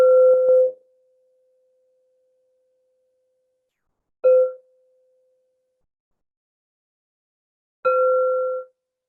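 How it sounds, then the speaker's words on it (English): Three meditation bell strikes, each a clear sustained tone ringing out and fading, spaced a few seconds apart in a quiet room with no talk. "we'll begin with the sound of 3 bells"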